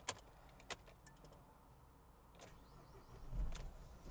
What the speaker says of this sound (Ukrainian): давайте тепер запустимо нарешті двигуна